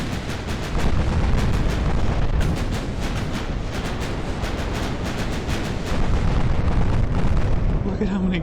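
Naval guns firing in Ultimate Admiral: Dreadnoughts, a warship's massed 8- and 9-inch batteries: rapid, repeated booming salvos over a constant rumble, close and loud.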